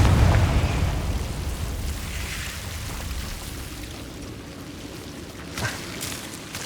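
A Confringo spell explosion in the Hogwarts Legacy video game starts as a deep, loud burst and fades into a long, hissing rumble, with a small sharp crackle late in the sound and no voices.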